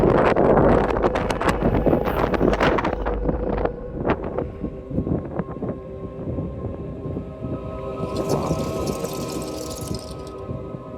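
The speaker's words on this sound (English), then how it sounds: "It's very windy Whitby day." Wind buffets the microphone with a steady roar on the coast at Whitby, while a tonal hum and a faint hiss linger in the background.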